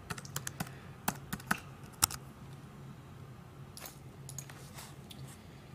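Fingers type a username and password on a computer keyboard, a close, irregular run of crisp key clicks with a few louder strikes and short pauses, over a faint low hum and no speech.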